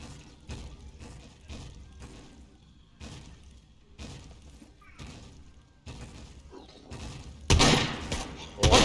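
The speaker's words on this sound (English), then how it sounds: "The mech shooting someone real close to me." A mech firing in SCUM at close range, delivering a steady series of sharp, evenly spaced gunshots that end in a louder, heavier burst with crashing impacts.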